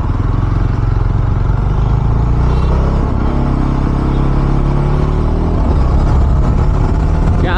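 A Jawa 42 Bobber BS6 2024 cruiser motorcycle with dual exhaust rides steadily on the road, its loud, close engine drone rising and falling slightly with throttle and no talking.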